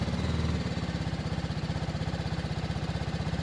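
A BMW G310 RR motorcycle engine idles in neutral right after starting, a loud, close, steady rhythmic putter with even pulses that never let up.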